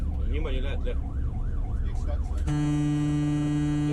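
A fire truck siren wails and cycles loudly through rush-hour traffic in Tallinn, then switches to a steady blaring horn tone, with people talking faintly underneath.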